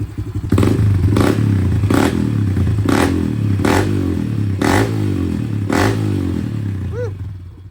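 A Honda CRF110 with a big bore 132 kit and a Pro Circuit pipe revs in a series of about six sharp, loud bursts on a close, rumbling idle, then settles down near the end.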